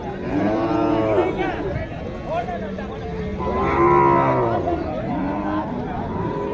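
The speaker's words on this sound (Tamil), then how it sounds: "காங்கை மாடு நல்லா பெருவட்டு மாடு" Several Kangayam cattle moo loudly and repeatedly at a busy cattle market in Tiruppur, their long low calls overlapping, with a background murmur of people chattering nearby.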